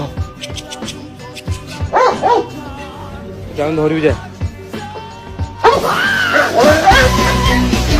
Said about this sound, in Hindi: ये कुत्ता समझ रहा था कि 2-4 धाड़े मारकर बकरी को डरा लेगा